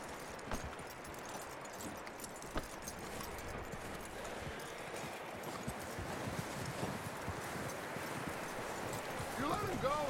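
Horse hooves clip-clopping in Red Dead Redemption 2, a steady galloping rhythm over a dense bed of ambient game noise and rustling, with talk mixed in.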